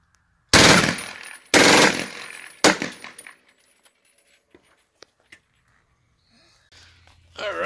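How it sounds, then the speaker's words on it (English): A USMC AN/M2 Stinger machine gun fired from the hip at a range: three sharp, loud bursts in quick succession, the last one short, then quiet with faint clicks and rustle. "Shoot. And burst number two."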